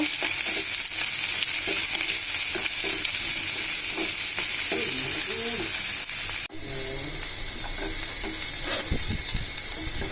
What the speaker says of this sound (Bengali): কিছু সময় পেঁয়াজ রসুন ভাজবো